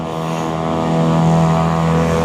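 Loud droning engine of a motorbike passing close by during a touring ride, a steady harmonic hum that swells slightly and holds for a couple of seconds with no talk.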